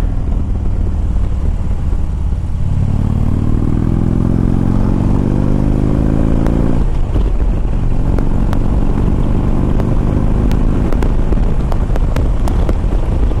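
A 2011 Harley-Davidson Ultra Limited with the 103 engine rumbles along on the road, its low engine note rising smoothly as it accelerates, with heavy wind buffeting the microphone throughout.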